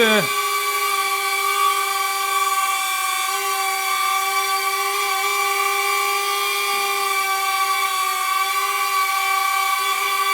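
A high, steady whine of a DJI Neo drone's original propellers with prop guards buzzing 10-15 centimeters away, holding an even pitch from start to finish.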